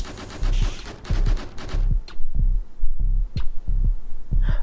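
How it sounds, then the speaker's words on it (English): Missile launcher in a Unity-built rocket cave game fires in a rapid series of punchy low thumps, each shot a short burst with a brief hiss, repeating steadily and loud with no voices. "That's what you'd expect, it shoots a missile"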